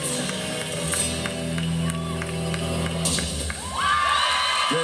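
A crowd of about 9,000 at a women's gymnastics meet between Air Force and Oregon State cheers and whoops loudly in a sustained roar, with shouts rising near the end.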